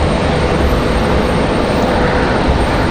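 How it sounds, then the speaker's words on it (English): Aircraft engines at Raleigh-Durham International Airport with an American Eagle jet pushing back from its gate, a loud steady broadband roar close by without letup. "It's got an American Eagle pushing back, so this one can take its gate."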